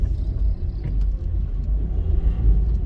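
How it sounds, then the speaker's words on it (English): Car interior on a drive along Roehampton Drive, with a steady low engine and road rumble throughout, close and fairly loud, and no talk. "we're gonna take a drive down to basically Roehampton Drive"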